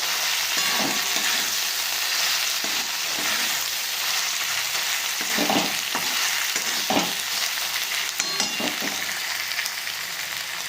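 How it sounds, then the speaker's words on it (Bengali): A loud, steady sizzle of spice paste frying, with repeated scraping and stirring strokes of a utensil in the pan, no talking. "এবার চলো খুব ভালোভাবে এটা মশলাটাকে কষিয়ে নিতে হবে"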